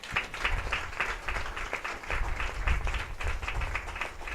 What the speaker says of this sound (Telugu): Give a mighty clap for them.